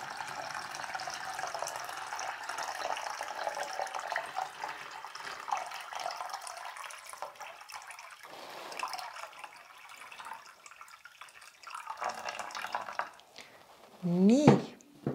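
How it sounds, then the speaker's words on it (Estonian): Ordinary tap water is poured into a package to make ice art, a faint, steady trickle and splash that runs on quietly before a short, louder burst near the end. "Ja nüüd valame selle vee siia pakendi sisse."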